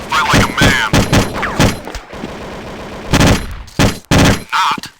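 Bursts of close, loud gunfire in the shooter game Counter-Strike come as rapid volleys and single shots separated by short pauses. A few thuds and clanks sound between the bursts.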